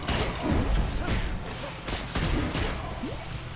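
Gunfire erupts in the LEGO Marvel Super Heroes video game: dense, loud bursts of shots and thuds come in quick succession with brief lulls between them.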